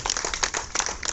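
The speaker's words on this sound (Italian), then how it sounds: "faccio un applauso" Brief applause at a playground inauguration in Porto Viro, a scattered crowd clapping nearby for about a second.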